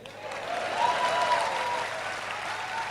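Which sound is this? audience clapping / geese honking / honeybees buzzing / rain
audience clapping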